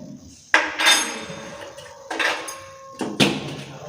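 Metal spoon striking and clinking against dishes in three separate bursts, each with a sharp onset and a short ringing decay, fairly close and clear with no talk.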